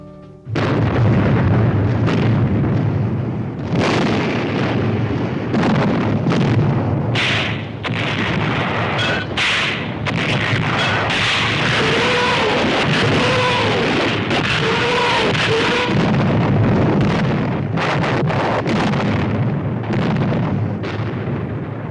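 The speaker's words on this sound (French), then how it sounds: "ce Noël, c'est le pilonnage d'artillerie le plus terrible du siège" Heavy World War II artillery bombardment during the siege of Bastogne: loud, continuous rumbling barrage with repeated booming blasts and sharp bursts overlapping throughout, dense and close, with no talk.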